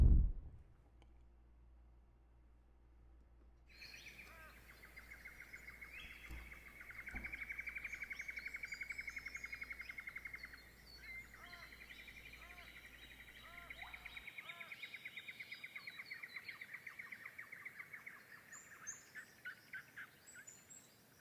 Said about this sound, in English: Oh, the birds are loud again, aren't they?